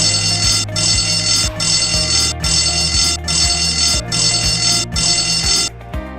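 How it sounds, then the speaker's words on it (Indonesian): Seven short blasts of a passenger ship's emergency whistle sound in a steady, evenly spaced rhythm, loud and harsh, over a low musical drone. "Jika Anda mendengar bunyi peluit pendek 7 kali,"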